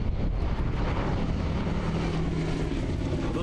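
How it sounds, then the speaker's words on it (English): Several piston engines of the B-17 Flying Fortress Memphis Belle roar steadily in flight, a loud, continuous, dense drone with wind buffeting the microphone and no voices. "thunderous roar of engines brought back memories for several World War II veterans today"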